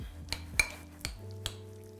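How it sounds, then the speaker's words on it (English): A steak being tossed and coated in a bowl, with a few sharp clinks of utensil against the dish at irregular intervals over a low, steady background. "Mix it all up."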